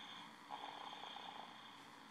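A young boy lying sideways in his crib snores softly, a faint, drawn-out nasal rasp heard at close range in a quiet room, with no one speaking.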